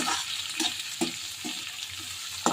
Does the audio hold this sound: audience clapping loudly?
no